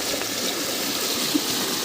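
Floodwater after a night of heavy rain flows steadily into a village pond and field, a continuous close rushing wash with no break across the stretch.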